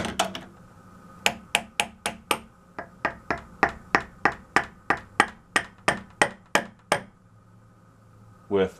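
A screwdriver taps repeatedly on the rotary valve shaft of a plastic Tiger tuba, giving a run of about twenty sharp, close clicks in a fairly even rhythm, with a brief voice at the very end.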